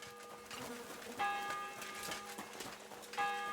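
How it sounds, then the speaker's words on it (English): A church bell tolls at sunset in the medieval game Kingdom Come: Deliverance II, two distinct ringing strikes a couple of seconds apart, moderately distant, amid soft ambient clatter like hoofbeats. "How many times did they ring that damn bell?"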